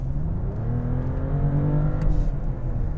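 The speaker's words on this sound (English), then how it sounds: "drop it into the sport gearbox setting and show you what it's like when you accelerate" A 2024 BMW 750e hybrid sedan's engine revving up as it accelerates in sport gearbox mode, the pitch climbing steadily in a smooth, rising drone heard from inside the cabin.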